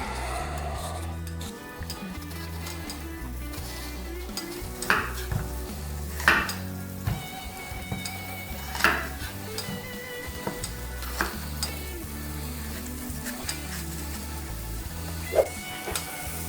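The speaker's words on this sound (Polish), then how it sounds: "Kiedy słyszę syczenie, wyłączam i zostawiam, żeby rondel ostygł razem z serem" A quiet, constant sizzle from Camembert cheese in a saucepan runs throughout, with occasional clinks of cookware and utensils and a low hum underneath.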